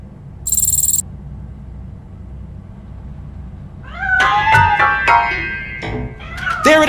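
A cat meows in the video game RoboCop: Rogue City, a few drawn-out, wavering cries following a brief bright burst and a quiet hum, fairly close and clear with no talking.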